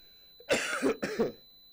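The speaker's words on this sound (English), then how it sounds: "I have a bit of a cough." A radio host coughs twice in quick succession, two close, rough bursts against a quiet studio background.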